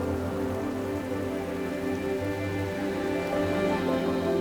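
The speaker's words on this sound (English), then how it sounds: "the pouring rain washes the dirt away" Heavy monsoon rain pours down steadily, a dense, continuous patter of drops striking surfaces close by, with no voices.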